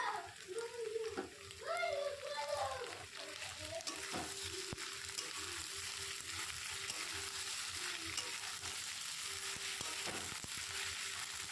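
Tomatoes and green chillies fry in a pan for egg curry with a steady, close sizzle. A voice talks briefly at the start and a faint tone hums through the middle.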